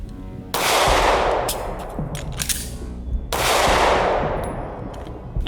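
Pistol shots fired during a draw-and-reload drill at a shooting range: two sharp, loud reports roughly three seconds apart, each followed by a long ringing decay, with faint clinks between them and no speech.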